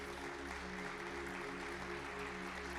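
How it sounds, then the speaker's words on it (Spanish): A church congregation applauds during a Spanish-language sermon, giving a soft, continuous patter of clapping that sounds distant and sits under a low hum. "da un aplauso a Jesús"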